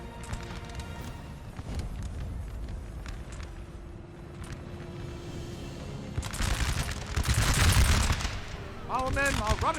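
Infantry musket volleys crackle in a Napoleonic-era strategy battle game, with bursts of massed fire over a constant rumble of battlefield noise, swelling loudest near the end as a voice talks over it.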